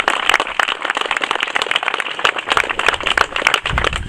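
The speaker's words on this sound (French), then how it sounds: "je pense que tout le monde peut vous applaudir pour ça aussi" An audience applauding after a speech, with dense, steady clapping from many hands that continues the whole time without letting up.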